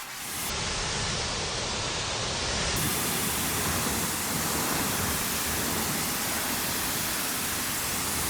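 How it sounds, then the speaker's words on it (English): Water sprays steadily onto a car wheel, rinsing off Dark Fury wheel cleaner: a loud, continuous hissing rush that holds constant throughout with no pauses or talk. "I want to rinse this off just because it's going to be satisfying to rinse off"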